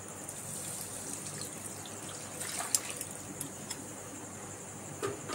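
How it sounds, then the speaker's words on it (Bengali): Watermelon juice is poured into a wok on a gas stove, giving a soft, continuous trickling splash that stays faint and steady throughout with no talking. "কড়ার মধ্যে এবার ঢেলে দেবো জুসটা।"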